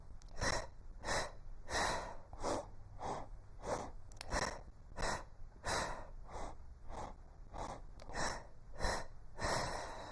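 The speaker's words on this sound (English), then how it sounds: "We have percussive breathing, so I'm going to just remind my body what that is." Pilates percussive breathing: a run of about fifteen sharp, forceful breaths in a steady rhythm, close and clear, each one a short hissing puff through the nose or mouth.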